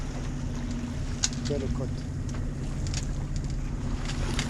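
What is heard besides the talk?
sailboat engine motoring along the coast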